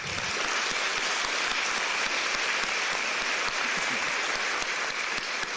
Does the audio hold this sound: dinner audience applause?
yes